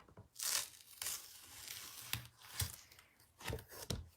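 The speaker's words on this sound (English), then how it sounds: "Look, I'm ripping it again." Paper rips in several short, crisp tears and crinkles, close and fairly quiet, spaced irregularly with brief pauses between.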